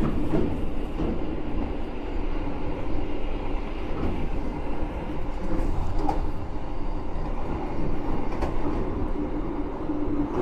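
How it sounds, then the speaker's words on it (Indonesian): The Argo Wilis passenger train from Bandung to Surabaya Gubeng rolls past steadily with a constant rumbling roar and faint rhythmic clatter of wheels on the rails, sustained and fairly loud. "Itu dia kereta api Argo Wilis dari Bandung tujuan"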